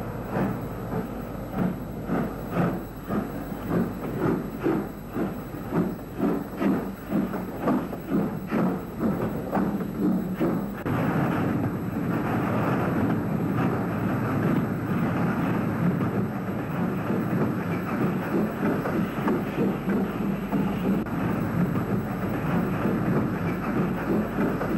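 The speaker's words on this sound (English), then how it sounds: "a heavy spoil train leaves the quarry and heads towards the main line" A heavy loaded spoil train pulls out of a quarry on an Irish line, rhythmic wheel thumps and clanks pulsing steadily at first, then blending into a continuous rumbling roll of wagons passing close by.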